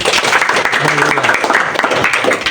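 A youth group audience at a church outbound event bursts into loud, close clapping that carries through the whole moment, with voices mixed in underneath.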